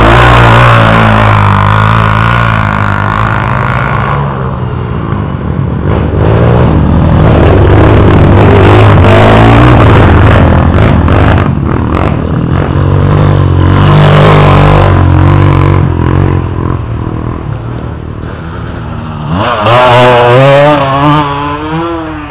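A Yamaha XTZ 125 motorcycle ridden hard on a mountain road, engine loud and close, revving and accelerating as it passes, then revving again near the end, with no talking.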